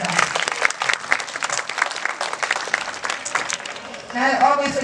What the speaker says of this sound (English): We'll give you a little round of applause.